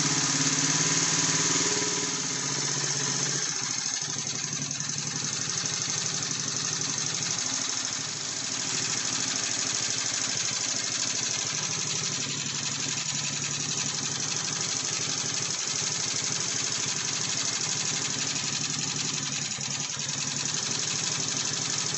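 An old neglected motorbike engine idles steadily while its carburettor idle speed and mixture are tweaked, a constant mid-pitched running drone with slight shifts in tone over about twenty seconds, no talking.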